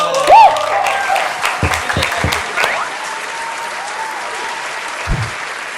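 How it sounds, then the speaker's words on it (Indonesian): Audience clapping at a comedy show, a steady burst of applause filling the room, with a brief voice rising at the start and a few louder thumps within the clapping. "Tepuk tangan dulu, tepuk tangan dulu."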